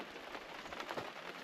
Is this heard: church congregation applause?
no